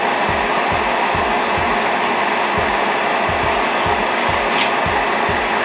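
An electric nail drill running in reverse at about 10,000 RPM grinds through a press-on nail, giving a steady, close, loud whirring buzz with soft rhythmic thumps underneath throughout.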